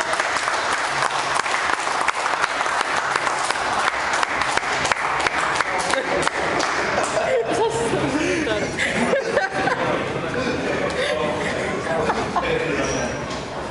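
Sustained applause from an audience at a bench press competition fills the room, steady and dense throughout, with some laughter and chatter mixed in as it fades slightly toward the end.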